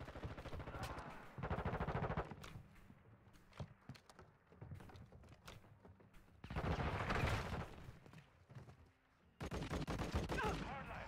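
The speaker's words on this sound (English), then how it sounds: "It sounds like a stock sound effect for a gun firing." Bursts of rapid automatic gunfire from Modern Warfare 2 crackle in several loud volleys separated by quieter gaps, with faint background game noise in between.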